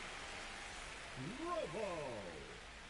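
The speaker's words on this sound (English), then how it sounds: "It feels like we might be headed towards a rain delay if the weather doesn't ease up" Steady rain falling during a baseball game, a soft even hiss of drops throughout, faint and distant, with a voice talking over it midway.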